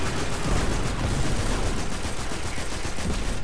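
Gunfire in the video game Destiny 2 comes as a dense, unbroken stream of rapid shots, loud and even for the whole stretch.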